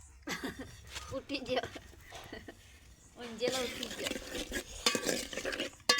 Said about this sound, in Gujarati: તો બટાકો થોડી વાર તેલમાં ફૂલો થવા દઈએ